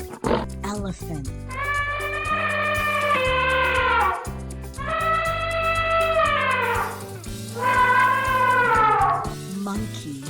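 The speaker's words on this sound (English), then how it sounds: "Elephant." An elephant trumpets in three long, loud, brassy blasts separated by short pauses, each rising and then sliding down in pitch.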